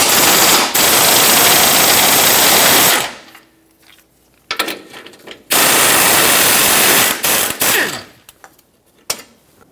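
Impact or ratchet wrench loosening 16mm bolts on the front differential of a 2008-2012 Jeep Liberty 4x4, loud sustained mechanical whirring bursts close by, separated by quieter gaps with clinks and handling noises.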